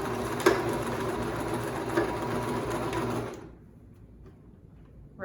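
A sewing machine stitches the long side of fabric for a homemade cloth mask, running in a steady close mechanical whir for about three seconds before stopping, leaving faint room sound.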